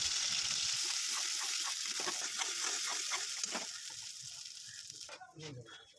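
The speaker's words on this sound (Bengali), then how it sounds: "সাদা তেল গরম হয়ে গেলে আমরা পুরটা দিয়ে দিচ্ছি" A pea paste filling hits hot oil in a wok, producing a continuous crackling sizzle that sounds close at first and softens and thins toward the end.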